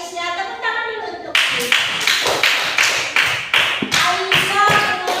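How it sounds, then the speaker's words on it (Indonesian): Children in a classroom clap their hands for Aisyah in a steady rhythmic series of sharp, close claps, with a voice speaking briefly before the clapping starts. "Tepuk tangan dulu untuk"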